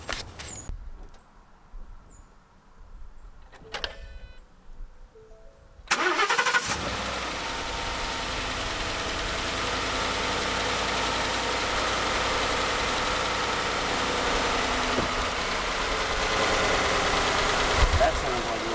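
A car engine cranks and fires after a battery replacement, then settles into a steady mid-pitched idle that runs on evenly; a few clicks and handling noises come before the start.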